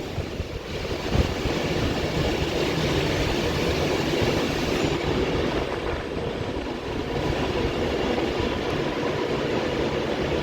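An Avanti West Coast Class 390 Pendolino electric train, unit 390.010, rolls into Preston station on the West Coast Main Line, a steady loud rumble of wheels and motors with faint clatter holding throughout without voices.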